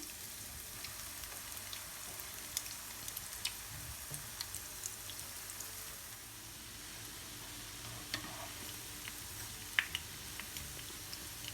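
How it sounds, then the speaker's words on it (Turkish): Cheese-filled pastry dough fries in hot oil with a soft, steady sizzle and faint crackling pops, quiet and continuous throughout. "Şimdi hamurlarımızı kızgın yağımızın üzerine bırakıyorum"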